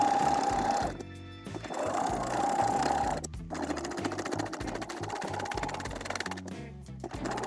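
A sewing machine threaded with a twin needle stitches in steady runs, its motor whirring and needle clattering close by, broken by brief pauses between bursts, with no talking.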